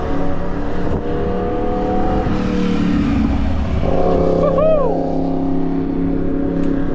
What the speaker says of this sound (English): Can hear a motorbike go.